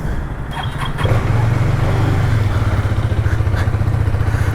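Hero Xtreme 250R motorcycle idling with a steady, bassy, throbbing exhaust note, close and continuous after a brief start, with no talking over it.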